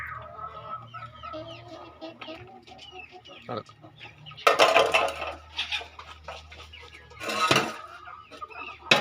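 Chickens cluck and chatter close by while they are being fed, with repeated calls over a low hum and several louder bursts of rustling and flapping.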